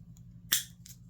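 Home Craft Japan hobby-grade side cutters snipping through wire, a single crisp, sharp snap up close in a quiet room, followed by a fainter click as the jaws open.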